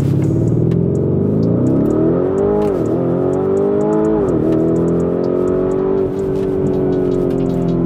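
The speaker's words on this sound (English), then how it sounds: "we're gonna go ahead and change it over to Corsa, and we're gonna do a 0 to 60, and we're gonna go ahead and see how that sounds" A 2021 Lamborghini Urus in Corsa mode accelerates hard from 0 to 60, its engine roaring loud and close through rising revs, with a couple of brief dips at the gear shifts before the note climbs again.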